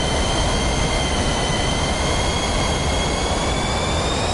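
Loud, steady roar of an aircraft engine in Microsoft Flight Simulator 2024 on PS5, a continuous droning rush with a high whine over it, with no talking.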